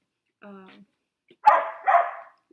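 A short whine followed by two sharp, close dog barks in quick succession, loud against an otherwise quiet background.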